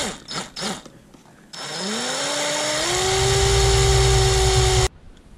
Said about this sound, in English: we'll step over to the step up bit. And we'll just take that slowly, one size at a time until we get to where we need